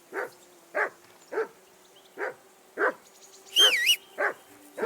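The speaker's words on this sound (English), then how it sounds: "I assume you can hear that damn dog of yours barking." Dog barking in the video game Kingdom Come: Deliverance 2, eight evenly spaced single barks at moderate distance, with a brief whistling tone over one of them.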